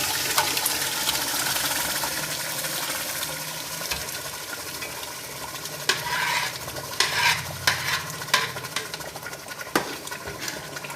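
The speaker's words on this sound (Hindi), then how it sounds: "अब साग डाल देते हैं इसके अंदर।" Mustard greens tipped into a spiced turmeric masala and stirred, with a steady frying sizzle and scraping stirs that grow louder and more clattery toward the end.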